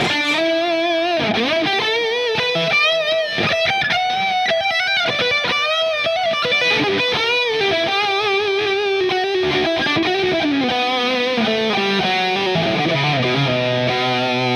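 Distorted electric guitar, a JOSHI LAK T-Stripe, plays a continuous, expressive lead line with bends and sustained notes, loud and alone, with no talking.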